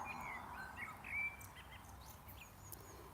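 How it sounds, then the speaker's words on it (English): A blackbird sings from somewhere overhead, its thin whistled phrases faint and fairly distant above a steady outdoor background hiss, with no talking. "There's a blackbird singing for us up there"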